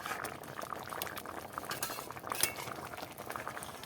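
Steamed egg curry with potatoes bubbles and simmers steadily in a pan while a spoon stirs it, adding soft scrapes and a few light clinks over a constant low boil, with no talking.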